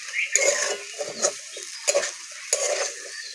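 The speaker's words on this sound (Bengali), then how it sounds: "ভালো করে ভেজে নেব" Aloo posto with drumsticks (sajne data) and potatoes stirred in a frying pan with salt and turmeric, giving four short bursts of scraping and sizzling at close range, with no voices.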